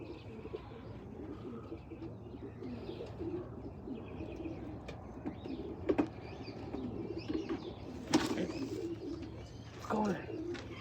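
A racing pigeon from a CBS line coos softly at close range, the low murmuring calls faint beneath a quiet room background, with a few small chirps and knocks now and then.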